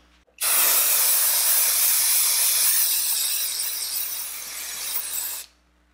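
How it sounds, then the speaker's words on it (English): Leather protector sprays onto a Louis Vuitton Pochette Metis Vachetta leather bag in one loud, steady hiss lasting about five seconds, which then cuts off sharply. "then I'm going to spray it again"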